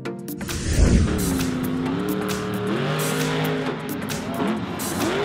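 The Max D monster truck engine roars and revs in loud, rising and falling surges at close range, opening with a heavy burst and holding a steady throaty drone.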